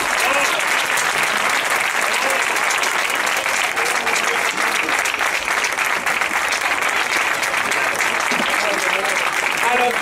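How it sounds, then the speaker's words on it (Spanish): An audience claps loudly and steadily for a youth wind band at an August 2017 concert, with dense applause filling the whole stretch and a voice speaking over it. "Fuerte aplauso."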